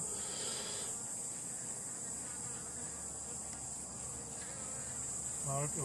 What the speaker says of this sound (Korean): 들어가고 몇초 후에 갑자기 꿀벌들이 때로 덤비기 시작합니다.